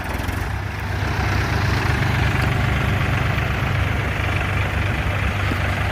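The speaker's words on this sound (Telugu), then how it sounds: "ఇప్పుడు ఈ రెండు ట్రాక్టర్లు వచ్చేసి హై ఫస్ట్ గేర్లో రాబోతున్నాయి మరియు ఇంజిన్ స్పీడ్ వచ్చేసి" Two tractors, a Mahindra 575 DI XP Plus and a Powertrac Euro 45 Plus 4WD, are driven in high first gear at about 1000 RPM. Their diesel engines give a steady, loud, low rumble throughout with no talk.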